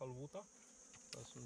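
A honeybee colony buzzes as it is moved to a new hive in Paraguay, a faint, steady droning hum that runs through the whole moment.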